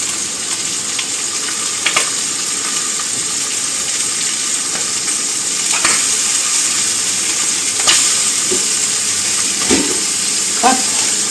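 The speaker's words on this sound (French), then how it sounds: "faire revenir nos petites cuisses de poulet." Small chicken legs brown in a hot frying pan with a constant close sizzle. Occasional louder crackles and spits come through, along with brief clinks of the pan or utensils.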